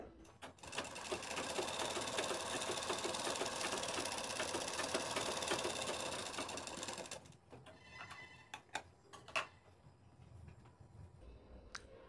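A sewing machine runs in one steady, dense stitching burst for about seven seconds, then stops. Faint handling clicks and light knocks follow at close range.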